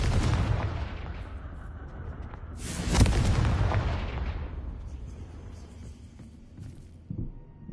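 A Confringo fire spell explodes in the Hogwarts Legacy video game: a loud blast at the start, then a second sharp burst with a rushing roar that slowly fades, and a smaller thump near the end.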